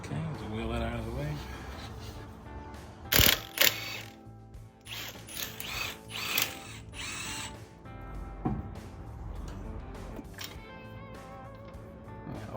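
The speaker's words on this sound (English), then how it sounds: "You just go zinging with the gun." An impact gun removes wheel studs on a 2004 Ford Mustang, firing two short, loud bursts among metallic workshop clatter while people talk.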